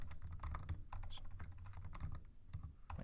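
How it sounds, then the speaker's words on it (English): Rapid, uneven keyboard typing with soft clicking keystrokes over a low background hum, close by and steady for a few seconds. "My typing is really off."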